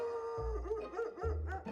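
A dog howls and barks in a short burst, the drawn-out wavering howl mixed with sharper barks over a low rumble, fairly close and steady.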